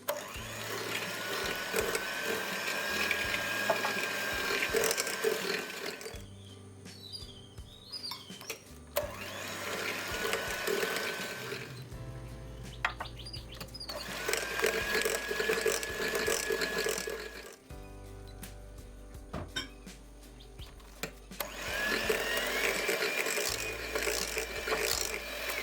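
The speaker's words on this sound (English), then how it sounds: "Now I'll add 4 eggs, one by one, making sure to mix well after each egg." Eggs are beaten one by one into Oreo cake batter in a bowl, giving long stretches of rough, steady mixing and whirring with brief quieter pauses between, all without any talk.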